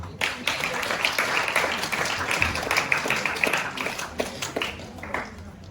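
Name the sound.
audience applause at ceremony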